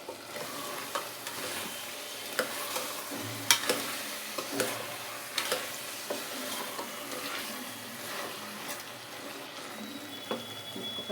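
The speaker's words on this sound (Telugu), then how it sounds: "టమాటాలు ఆ పేస్ట్ ఉంది కదా, కారం, అదంతా పచ్చివాసన పోయేంత వరకు నీట్గా ఫ్రై చేసుకోవాలి" Tomato paste and chilli powder frying in oil in a pan for a mutton gravy, with a soft continuous sizzle and occasional scraping stirs and small pops, fairly quiet and close.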